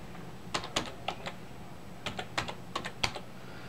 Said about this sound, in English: Just start typing Kiwanis.